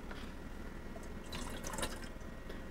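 Water is poured from a Glacier cup into a Catalyst, a faint, continuous trickle with small splashes and drips heard up close and on its own.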